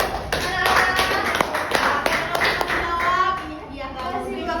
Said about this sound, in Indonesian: Beri tepuk tangannya anak-anak.